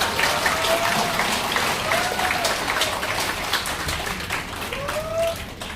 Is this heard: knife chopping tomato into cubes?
no